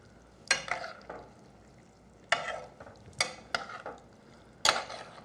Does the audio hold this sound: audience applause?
no